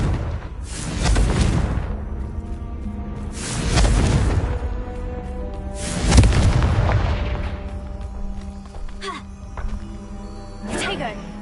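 The Confringo fire spell explodes in Hogwarts Legacy, with several heavy, rumbling booms spaced a few seconds apart and each decaying slowly, followed by a sharper, thinner crack near the end.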